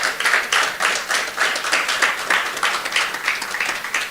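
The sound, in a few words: audience applause for the governor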